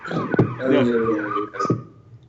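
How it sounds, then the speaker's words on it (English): A siren wails in the distance beneath a person talking, its tone rising and falling briefly before fading. "there's another siren coming, it sounds like"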